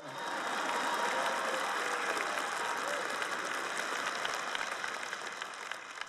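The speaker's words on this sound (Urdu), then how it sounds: "مجھے یہاں سے ہلکی سی تالی کی آواز آئی ہے." Light, steady applause from an audience at a church sermon, a soft continuous patter of many hands at middling distance, holding evenly for several seconds before tapering slightly at the end.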